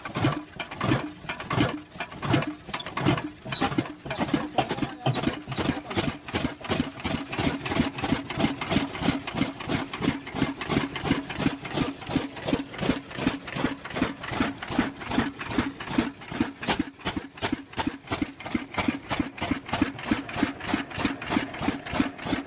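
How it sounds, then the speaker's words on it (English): Antique 600-horsepower single-cylinder gas engine running at the Western Minnesota Steam Threshers show: a steady, rhythmic train of evenly spaced chuffing firing beats, moderately loud and continuous, with no voices. "The 600 horsepower antique gas engine at the Western Minnesota Steam Threshers"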